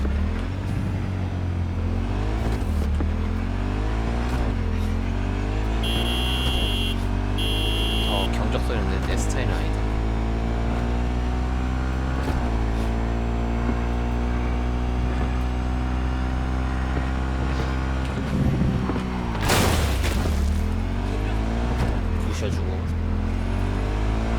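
An in-game car engine from Cyberpunk 2077 drones steadily throughout, its revs rising and falling in repeated sweeps, with a short beeping tone partway through.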